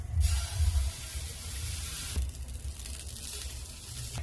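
Butter hits a greased pan over low heat with an immediate burst of hiss, then settles into a steady, close sizzle for several seconds.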